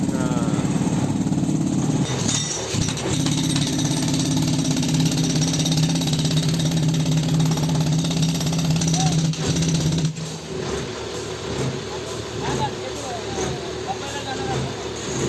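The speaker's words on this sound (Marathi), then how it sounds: "मोठी मशीन खड्डा खोदायची." A heavy digging machine excavating a pit drones and rattles steadily nearby, easing to a lower idle partway through, with people talking faintly underneath.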